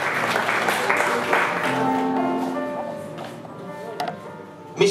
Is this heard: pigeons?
no